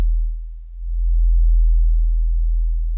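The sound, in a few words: sub-bass rumble below 40 hertz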